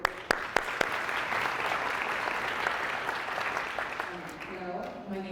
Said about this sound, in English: Give her a round of applause while we wait.